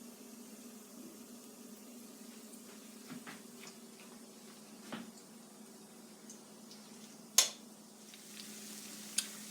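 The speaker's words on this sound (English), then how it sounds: "I've been frying them for about 5 minutes" Potato latkes frying in hot oil, a quiet steady sizzle with a low hum underneath and a few soft clicks and pops, one sharper tick near the end.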